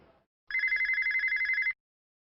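A telephone rings indoors in a domestic drama scene, a single steady electronic trilling burst lasting just over a second, fairly loud and alone after a brief murmur.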